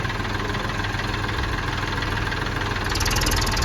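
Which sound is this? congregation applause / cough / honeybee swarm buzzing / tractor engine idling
tractor engine idling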